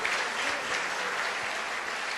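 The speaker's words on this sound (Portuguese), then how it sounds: "Aplauda e glorifique ao Senhor." Church congregation applauding during a Brazilian evangelical service, a dense, even wash of many hands clapping at moderate volume with no speech over it.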